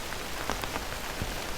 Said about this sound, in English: Rain taps softly overhead.